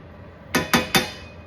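Three quick metallic clinks ring out in a steady rhythm, close and clear, as a utensil taps a pan while eggs seasoned with salt and pepper are mixed.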